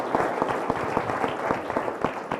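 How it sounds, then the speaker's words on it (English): An audience at a 2015 Weslaco city candidate forum gives a round of applause, with scattered, fairly faint clapping in an irregular patter. "So if everybody would take a round of applause for them."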